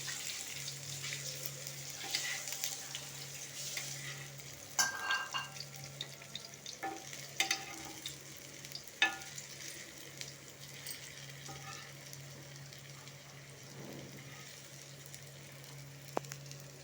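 Radish pieces deep-fry in oil for a crispy spicy snack, a fairly soft, steady bubbling sizzle broken by a few sharp clinks and turning sounds.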